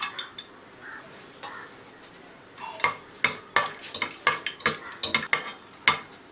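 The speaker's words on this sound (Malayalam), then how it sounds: "എണ്ണ ചൂടായിട്ടുണ്ട്, നമുക്കിതിലേക്ക് പട്ട, ഗ്രാമ്പു, ഏലക്ക എന്നിവ ചേർത്ത് കൊടുക്കാം." Cinnamon, cloves and cardamom drop into hot oil for a Kerala-style beef curry, sharp crackling pops and clinks at first sparse then building into a dense, close spatter.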